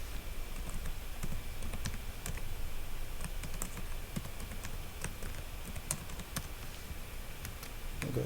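Someone types a password on a computer keyboard, close and fairly quiet, with a continuous run of soft key clicks over a low room hum.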